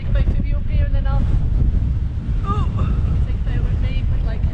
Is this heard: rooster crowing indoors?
no